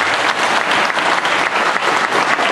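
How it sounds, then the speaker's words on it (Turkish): An audience at a community Aşure night gathering in Pazaryeri breaks into loud, dense, continuous applause that stays even and close throughout, with no talking over it. "bir alkış."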